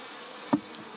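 Bees swarm around an open beehive with a low continuous buzz, and one bee passes briefly close by near the middle with a louder, sharper buzz.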